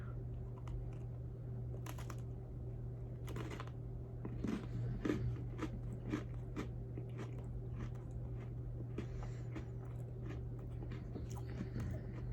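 Someone bites into a Salted Caramel Brownie Oreo cookie and chews it with soft, scattered crunches. The sound is close and fairly quiet over a steady background hum, with no talking.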